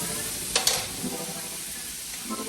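Garlic, onion, sweet pepper, pimento and hot pepper sautéing in a pot, a steady soft sizzle with a couple of sharp stirring scrapes near the start.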